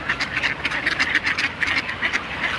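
Ducks being fed bread quack in rapid, overlapping bursts, loud and close, with a busy continuous chatter throughout.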